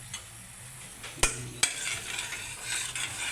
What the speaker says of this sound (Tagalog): nagpapakulo na ako ng gulaman